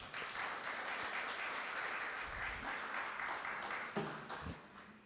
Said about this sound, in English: Ladies and gentlemen, a round of applause once again for Dr. Williams.